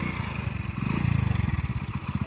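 A motorcycle being ridden putters with a rapid, pulsing engine beat that grows louder and steadier, close by, with a rattling edge and no talking.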